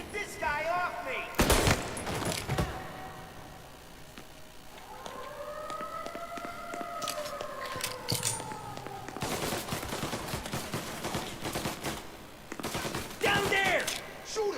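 Bursts of automatic and single gunfire from a shootout in the video game Mafia: Definitive Edition, loud and repeated in volleys, with a siren-like wail rising in the middle and chaotic shooting returning at the end.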